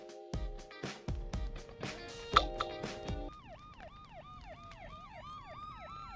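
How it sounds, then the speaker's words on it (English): Police sirens wail in a video game, first short loud blasts and horn-like bursts, then a rapidly cycling two-tone siren sweeping up and down on its own. "I hear police sirens."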